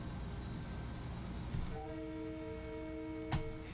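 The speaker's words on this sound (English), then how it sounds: "We've got another train coming, so we're going to do the horn." Long Island Rail Road train horn in Train Sim World 2020, a multi-tone chord sounding steadily for about two seconds over a constant engine and rail rumble, with a brief click near the end.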